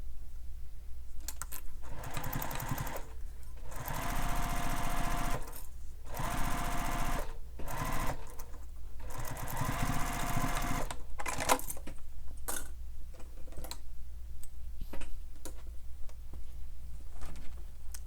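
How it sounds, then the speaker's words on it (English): A sewing machine runs in bursts stitching the pocket of a Bella bag, fast mechanical chatter broken by short pauses, close and steady. "And then you'll sew this with the seam allowance given in the pattern."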